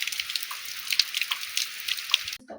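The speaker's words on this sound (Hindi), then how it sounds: "मैं बाहर आई तो देखा बारिश हो रही है" Rainwater drips from a roof in a steady, irregular patter of close, crisp drops with occasional louder plinks. The dripping carries on for a couple of seconds before cutting off abruptly.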